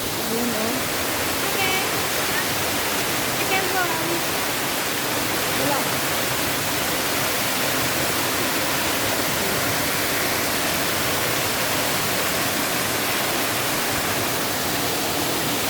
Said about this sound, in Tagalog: Kaya pala malakas ang lagaslas ng tubig.